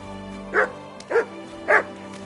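Dog barking in the video game Kingdom Come: three evenly spaced, short woofs about half a second apart, moderately loud over a low steady hum, with no talking.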